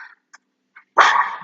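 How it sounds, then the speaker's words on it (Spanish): A pet dog barks loudly once at close range after a few short faint yips, heard during an online class. "Ay, perdón, ese fue mi perro."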